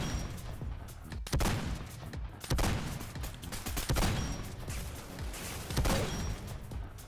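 Shotgun blasts from a one-shot weapon dealing 600 damage in the video game Weird Gun Game, with several loud, booming shots spaced about a second or more apart over continuous game noise.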